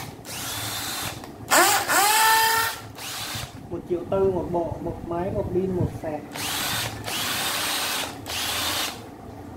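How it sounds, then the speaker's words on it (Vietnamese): A 12V three-function cordless hammer drill whirs in several short, loud bursts that spin up and wind down, separated by pauses, while someone speaks between the runs. "Dòng này là dòng khoan co búa nha anh em."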